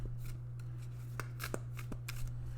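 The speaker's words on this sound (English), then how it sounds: "Keep shuffling. Just keep shuffling." Tarot cards are shuffled softly and close by, with quick papery riffles and flicks in an irregular rhythm over a steady low electrical hum.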